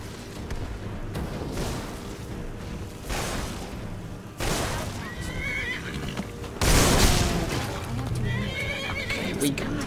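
A horse in the Skyrim video game gives loud whinnies amid a troll fight, with a couple of rising neighs toward the end, heavy impact bursts and someone talking over the action.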